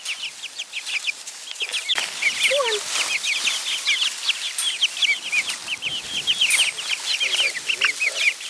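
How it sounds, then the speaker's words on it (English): Chickens cluck steadily in a dense overlapping chorus while a person herds them through straw, with occasional short calls to the birds spoken over the flock. "Go act like chickens."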